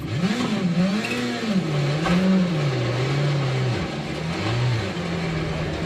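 A rally car engine in the Assetto Corsa Rally game, held in first gear, revs up and down in continuous waves, rising and falling several times, loud and close with no talking.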